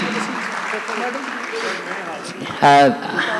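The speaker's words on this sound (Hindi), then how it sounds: "तालियां बंद क्यों हो रहा है? Clapping please." An audience at a hijama symposium in a Lahore hotel applauds, a soft, steady patter of clapping in a large room, with a voice speaking over it and a loud spoken exclamation near the end.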